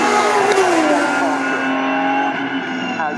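An Aston Martin Vulcan, an 820bhp hypercar, is driven flat out on a track, its engine roaring loud and close with rising and falling pitch as it accelerates, while a voice speaks over it.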